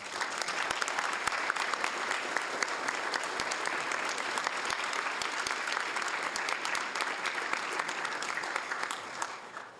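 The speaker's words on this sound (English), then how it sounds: "let's give them all a big round of applause" Sustained applause from the audience at a city council meeting in Hayward, a dense, even roar of many hands that holds for nearly ten seconds before tapering slightly.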